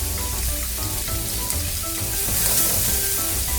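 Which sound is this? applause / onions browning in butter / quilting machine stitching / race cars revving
onions browning in butter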